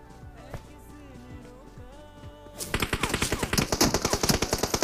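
A rapid burst of automatic gunfire erupts partway through a battle royale match, loud and close with a fast, regular rhythm, after quieter game ambience and a few scattered thumps.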